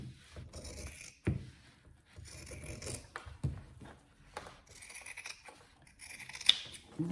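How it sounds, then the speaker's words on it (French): Scissors snipping off a small protruding piece of fabric while sewing a shoulder bag, a few quiet, close cutting clicks and rustles separated by pauses. "je vais couper ce petit morceau qui dépasse"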